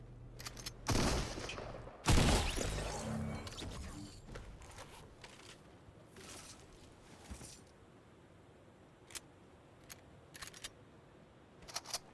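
Gunfire in the video game Fortnite comes as a couple of loud, sharp bursts early on, followed by fainter scattered shots and clicks that fade into quieter background noise.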